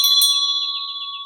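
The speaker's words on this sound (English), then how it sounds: "The second thing that you can use is a bell." A bell from India struck once indoors, giving a sharp metallic strike and then a long, clear ringing tone with a slow, pulsing shimmer as it fades, heard alone.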